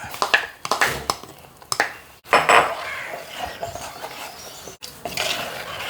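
Ground paste going into a pot of leaf curry: a run of metallic clanks, taps and scrapes of a spoon against the cookware, sharp and close, with brief pauses between bursts.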